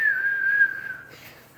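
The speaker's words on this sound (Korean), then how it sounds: "휘파람 불면서" A person whistles a single sustained, wavering note for about a second, then it fades and starts again briefly at the end, close and clear with no talking.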